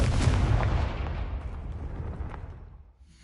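A Confringo fire spell in Hogwarts Legacy goes off as a loud, close explosive blast whose booming rumble slowly fades away over a few seconds.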